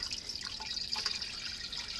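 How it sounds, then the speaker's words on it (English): Tap water runs and drips into the bottom of a steamer pot holding fresh eggs in a basket, a steady faint trickle with brief splashy spurts throughout. "I'm just going to add enough water to fill up the bottom"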